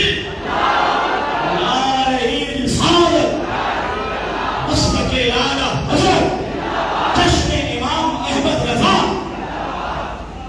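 At a large Islamic religious gathering in Patna, a crowd shouts back in loud repeated collective chants after a call from the stage, the voices swelling in waves over an echoing public address system.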